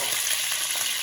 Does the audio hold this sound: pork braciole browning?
yes